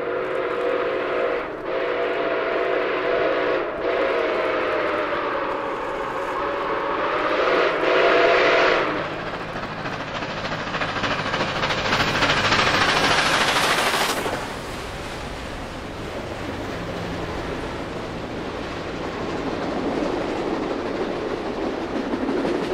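Steam locomotive Nickel Plate 765 on the Wabash Cannonball excursion rolls through a scenic cut near Rich Valley, Indiana, whistling and rumbling loudly past with a rising roar, then its clattering cars trail off.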